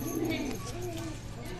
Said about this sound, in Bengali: সো বন্ধুরা এই হচ্ছে ফিমেল পায়রাটি